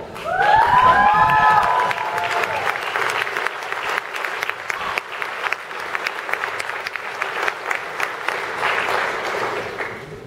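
A hall audience at a 2013 customer service outlook event gives sustained applause for a culinary apprentice, with a brief cheer or shout at the start and steady, full clapping for about ten seconds.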